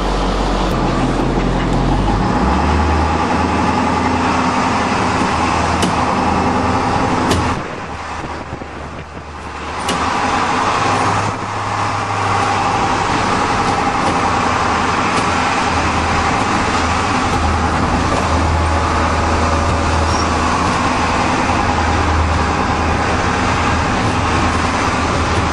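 A 2009 International school bus drives along steadily with a loud, continuous engine drone and road rumble, wind buffeting the microphone, and a brief dip in the noise partway through.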